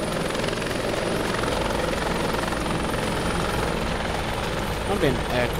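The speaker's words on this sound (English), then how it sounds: "Let's get this chopper." A helicopter engine in ArmA 2: Operation Arrowhead gives off a loud, steady rotor roar and whine that fills the whole stretch without letup, with a voice faintly underneath.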